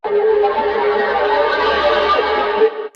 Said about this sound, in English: And then I added on this plugin called Hardcore right here. If I turn it all the way up, it sounds like this.